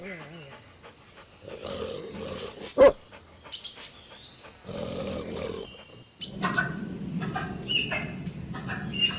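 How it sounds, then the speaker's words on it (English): A dog's bark rings out amid a run of farm and pet animal sounds, with several bursts of barking and a sharp loud peak near the middle, followed by a denser stretch of calls. "Dog."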